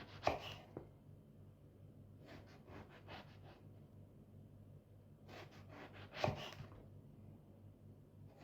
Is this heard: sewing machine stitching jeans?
no